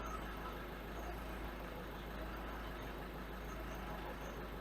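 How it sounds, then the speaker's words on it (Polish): A Ford C-Max engine idles after a fuel filter change, a steady low rumble with slightly wavering revs, heard close and alone without talk. "Zobaczymy, czy zgaśnie. Trochę falują obroty."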